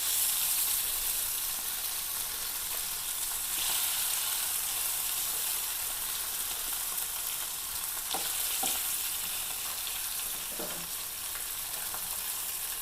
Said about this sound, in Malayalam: മസാലയൊക്കെ പുരട്ടി. അപ്പോൾ അത് വറുത്തെടുക്കാം.